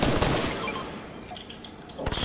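Rapid, sustained gunfire in the video game Fortnite, a dense loud burst of shots filling the clip with a brief fresh volley at the end.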